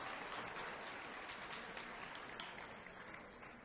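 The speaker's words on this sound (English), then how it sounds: "Let's give our class of 2019 a big round of applause." Applause from the audience at a high school senior scholarship and academic awards ceremony for the graduating class, a steady, distant wash of clapping that stays even throughout and tapers slightly at the end.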